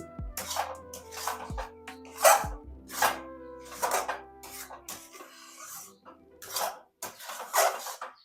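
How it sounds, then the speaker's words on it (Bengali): Maida dough with ghee stirred and scraped in a wok, a rhythmic series of rasping scrapes, about one every second, close and moderately loud. "এর ওপর দিয়ে আমি ঘি দিয়ে দিচ্ছি। এটাকে ভালো করে শুকনো করে নেড়ে চেড়ে নিচ্ছি।"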